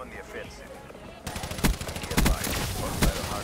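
MSMC submachine gun fire in Black Ops 3, rapid automatic bursts that start abruptly after a quiet moment and continue loudly, with several sharper shot peaks in close succession.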